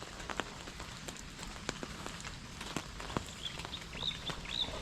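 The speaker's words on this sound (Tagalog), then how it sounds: "Maulan na umaga." Steady rain patters across a campsite on a wet morning at the foot of Mount Arayat in Pampanga, a soft continuous hiss with scattered drop ticks and faint bird chirps near the end.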